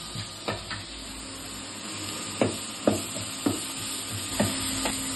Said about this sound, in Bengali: এখন ভেজিটেবল স্যালাড বানাচ্ছে, ফ্রাই ভেজিটেবল স্যালাড